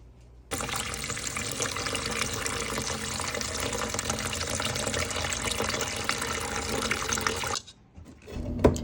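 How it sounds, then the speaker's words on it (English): Cold tap water runs steadily over cooked pasta to cool it, a close, even rush of water with no talk that cuts off abruptly near the end. "and then I'm going to cool it down with cold water"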